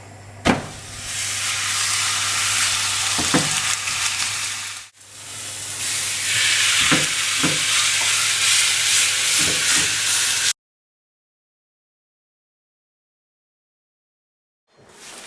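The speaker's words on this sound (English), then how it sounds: "we're going to put it on and we should hear a nice sizzle." Steady loud sizzling hiss of steak frying in a hot pan, with a few sharp clatters, then it cuts to silence before a brief final sound.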